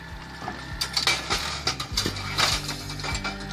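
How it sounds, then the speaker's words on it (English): Kinetic log splitter driven by a 3 kW electric motor, splitting wood with a custom splitter, giving loud close mechanical clanks and ratcheting knocks over a steady motor hum. "the kinetic log splitter, combined with a custom wood splitter and a 3 kilowatt electric motor, delivers exceptional work efficiency"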